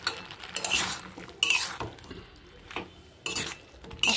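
Pan stirring of potatoes coated in a ground mustard, poppy seed and green chilli paste, heard as a few separate scraping and clinking strokes of a utensil against the pan with short pauses between them, close and moderately loud.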